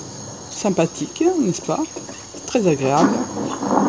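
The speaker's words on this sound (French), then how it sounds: "On entend les grillons chanter." Crickets chirp in the night-time Skyrim game world at the Steed's Watch homestead after a rain shower, a steady high trill running beneath someone speaking French.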